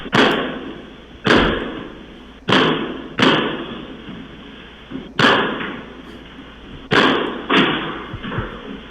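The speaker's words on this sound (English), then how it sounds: "Jim Jones was kicking the doors in, trying to get in some way, somehow." Heavy doors being kicked in at a building during an eviction dispute: seven loud, sharp impacts spaced irregularly over several seconds, each a booming thud with a rattling ring that decays, close and with no talk.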